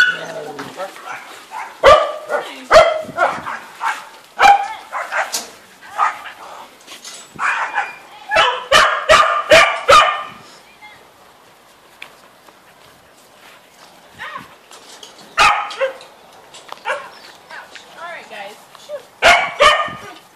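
A pack of dogs at an elephant nature park barks in bursts of sharp yips and woofs, several close together, with quieter gaps between and some whimpering.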